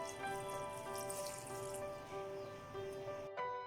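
Agar agar (china grass) cubes being rinsed under running water in a kitchen sink, a steady close tap stream with light splashing throughout.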